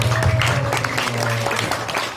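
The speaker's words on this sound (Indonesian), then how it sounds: "tepuk tangan yang meriah dulu" Children at a pondok pesantren Islamic boarding school clapping together to welcome a visiting ustaz, a dense burst of many small hands with a steady tone and murmured voices underneath.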